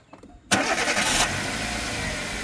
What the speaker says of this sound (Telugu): స్టార్ట్ చేసి సౌండ్ ఎలా ఉంది ఏంటన్నది చూపిస్తాను నేను స్టార్ట్ చేసి మీకు సౌండ్ కూడా చూపిస్తాను